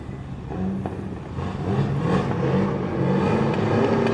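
Race cars sit on the start line at a drift competition: a K24-powered BMW E46 and a supercharged LS-swapped Nissan 350Z. Their engines idle loudly and rev in rising surges, with a steady rumble heard up close.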